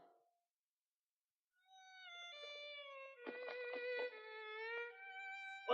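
A cat character in a 1972 Muppet musical film gives a long, drawn-out meow that rises and wavers over several seconds, clear and alone.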